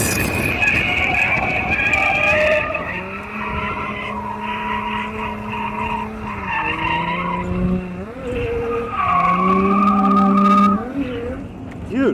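Nissan 240SX lapping a race track at a track day, engine note rising and falling through gear changes with tire skids, loud and continuous with no talk.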